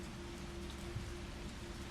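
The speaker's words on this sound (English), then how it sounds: "Yeah, it's nice and rainy outside." Steady rain falling outside in the video game Resident Evil 3 Remake, a constant dense hiss of drops on surfaces with no breaks, heard alone without voices.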